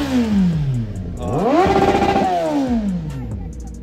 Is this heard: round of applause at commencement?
no